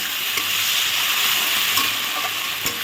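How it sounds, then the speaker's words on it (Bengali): Onions browning in a frying pan on a home stove, a steady close sizzle with faint stirring scrapes and a few small pops, no talking. "এখানে আমি পেঁয়াজটাকে সুন্দর করে লাল লাল করে কষাচ্ছি"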